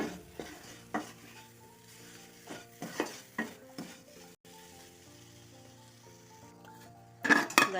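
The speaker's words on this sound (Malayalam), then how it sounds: "ഇതിലേക്ക് നമുക്ക് പൊടിച്ചു വച്ചേക്കുന്ന അബല് കൂടെ ചേർക്കാം എല്ലാം ഒരുമിച്ചൊന്ന് മിക്സ് ചെയ്ത് കൊടുക്കാം" Ground rice flakes being stirred into a mashed banana snack mixture, with several soft, scraping strokes that come in short bursts over steady background music.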